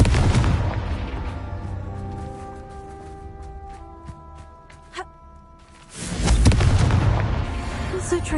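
A Confringo explosion spell goes off in a video game, a deep booming blast followed by a sustained rumble and crackle, with game music and effects around it.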